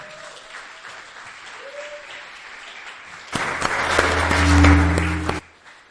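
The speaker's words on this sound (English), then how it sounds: "So big applause for Nacho Rodriguez." Audience applause for a speaker at a digital nomad festival panel, a loud burst of clapping that swells for about two seconds and then stops, preceded by quieter room sound.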